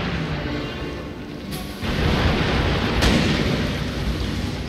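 A musket volley in the battle game Shogun 2, Joseon against Ming forces: a dense, loud crackling roar that swells sharply partway through and holds as a sustained wall of gunfire with a heavier boom near the end.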